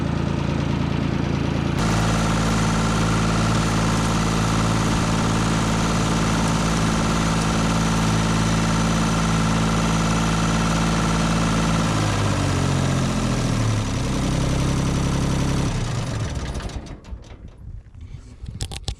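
A Woods F35-3 belly mower tractor engine runs loud and steady up close after a sudden start, its tone sagging briefly before it cuts out near the end, leaving quieter rumble.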